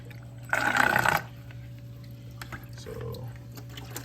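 A brief splashing rush of tap water rinsing equipment for a reef aquarium, lasting under a second, close up over a steady low hum, followed by faint handling clatter.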